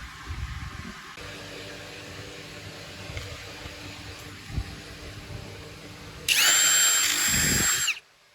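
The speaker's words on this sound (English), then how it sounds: "So now we're going to actually make the holes and do a test." A power drill boring holes for cabinet pulls through a DIY jig template, one steady high-pitched whine lasting under two seconds near the end after a stretch of quiet room noise.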